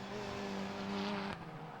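A BMW race car at the Brands Hatch circuit gives a steady, moderately distant engine drone as it rejoins the track, ending with a brief sharp transient.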